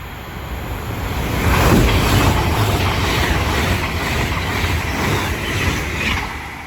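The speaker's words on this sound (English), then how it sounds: "Passing through now is a Fancy West Coast service from Manchester Piccadilly to London Euston." A West Coast express train from Manchester Piccadilly to London Euston speeds through Watford Junction, a loud rushing roar with rhythmic wheel clatter and a rising, then falling swell as it passes close by.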